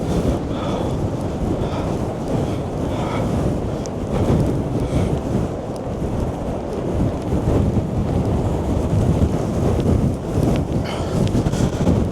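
Storm Darragh gales batter Blackpool promenade at high tide, a loud continuous roar of wind buffeting the microphone over the rumble of surf, with no let-up.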